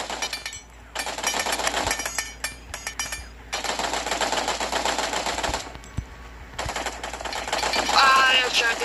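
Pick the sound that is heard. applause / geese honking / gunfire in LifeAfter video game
gunfire in LifeAfter video game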